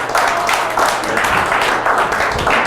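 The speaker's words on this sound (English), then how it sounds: "every one of those people deserve a round of applause." Applause from an audience following a student's engineering presentation on equalizer design, steady dense clapping filling the room for a few seconds at fairly close range.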